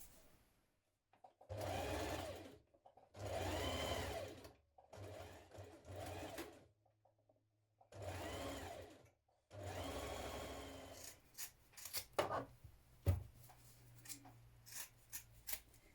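Domestic sewing machine stitching a pocket piece to a coat pocket band, several quiet bursts of rapid mechanical chatter separated by pauses, then light handling clicks and rustles.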